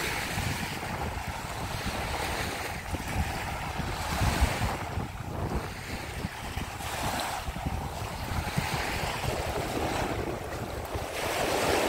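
Waves wash steadily onto an empty Baltic Sea beach at Hel, Poland, a continuous broad surf roar with gusty wind buffeting the microphone throughout and no voices.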